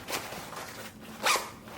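A zipper on a Victorinox Almont 20L lightweight daypack is pulled open on the main compartment, two quick close scratchy zips with a pause between, no talking.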